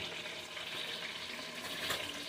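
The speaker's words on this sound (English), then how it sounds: "Rinse it real good because I'm leaving the skin on." Water from a kitchen tap splashes steadily over a potato being rinsed with its skin left on, a continuous close hiss with faint handling noise and no talk.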